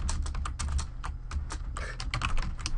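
Rapid clicking keystrokes on a computer keyboard as a ban command is typed into a Minecraft server game console, close and steady with irregular rhythm and no voices.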